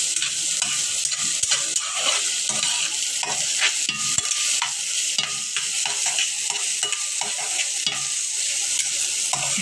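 Onion and garlic sizzle in oil in a pan, with frequent rhythmic scraping strokes from a spatula stirring them, close and continuous.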